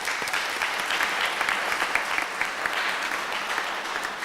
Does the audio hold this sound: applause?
yes